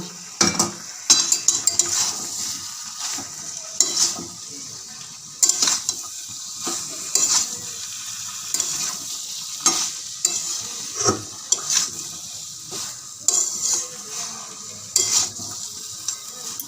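Potatoes stirred and fried in a pan for a broccoli curry, with steady sizzling and repeated scraping, clinking strokes of a utensil against the pan, close and alone.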